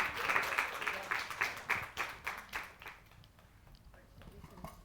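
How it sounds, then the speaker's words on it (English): Applause from a small audience at a talk on minorities and mental health, clapping in fairly loud bursts at first before it thins out and fades toward the end. "Let's give her another round of applause."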